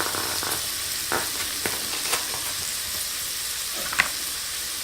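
Chicken alfredo pasta with heavy cream sizzles and is stirred in a Ninja cooking system pot, a steady close frying hiss broken by scattered scrapes and clacks of the utensil against the pot.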